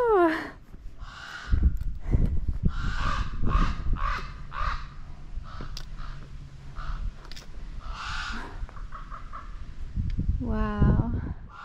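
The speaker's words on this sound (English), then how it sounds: "That bird's so mad." A crow caws repeatedly and harshly at a mountain overlook on the Appalachian Trail, in loud bursts spread across the scene, with hikers talking in between.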